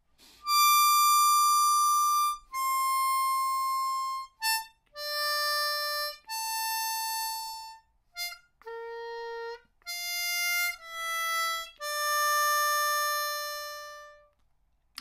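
Part D of the Game of Thrones theme on a solo harmonica, with the last few notes altered: a melody of distinct sustained reedy tones, some held long and others clipped short, played up close without accompaniment.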